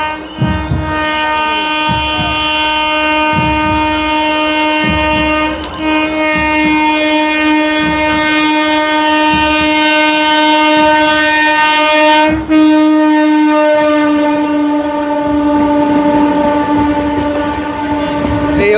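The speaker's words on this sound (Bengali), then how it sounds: "ট্রেন আসছে, দেখতে পাচ্ছ লাইন ফাঁকা করে দিয়েছে," A train at the crowded Thakurnagar Matua fair in West Bengal passes close by, its horn blaring loudly and almost continuously over the rolling rumble and clatter of the wagons.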